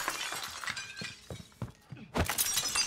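Glass shatters in Call of Duty Warzone, first a run of scattered crunching breaks, then a sudden loud burst of crashing shards after a brief lull, all close and without talk.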